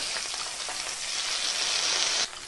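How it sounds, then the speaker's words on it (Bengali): Pabda fish frying in hot mustard oil in a kadai, a loud, dense hiss of sizzling oil that holds steady and then drops off abruptly near the end. "তেল গরম হয়ে গেলে পাবদা মাছগুলো একটা একটা করে দিয়ে দেব।"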